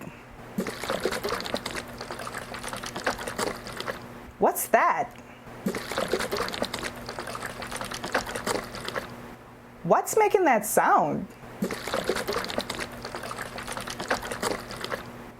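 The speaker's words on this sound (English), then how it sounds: "It's a bottle of Fiji water, but you didn't have to be that specific." Water pours from a bottle of Fiji water in two short, close splashing bursts, set apart by several seconds, while people talk around them throughout.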